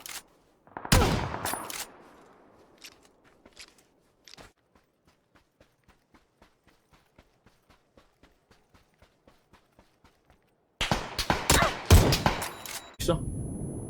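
Winchester rifle shots in PUBG ring out sharp and loud, with a couple near the start and a tight cluster near the end, separated by a long stretch of faint, evenly spaced footsteps.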